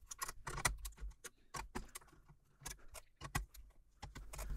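Light metallic clinks and rattles of small metal parts being loosened on a FlintHill banjo, irregular taps and jingles, close and quiet.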